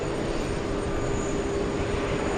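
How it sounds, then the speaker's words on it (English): A Delta heavy jet airliner at JFK airport gives off a loud, steady engine roar, with continuous broadband rumble and no pauses. "We're gonna stay with the Delta Heavy."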